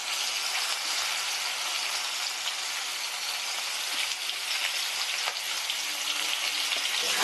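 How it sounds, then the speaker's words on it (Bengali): Steamed cauliflower florets frying in oil after potatoes, giving a steady, close bright sizzle that stays even and uninterrupted throughout, with no talk. "ফুলকপিগুলো আমি এই তেলের মধ্যে ভেজে নেব।"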